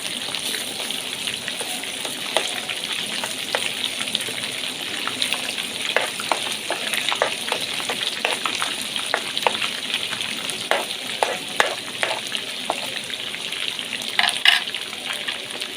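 Garlic frying in a pan for honey garlic chicken, a constant close sizzle dotted with sharp pops and crackles and occasional stirring clicks, fairly loud and unbroken, no speech.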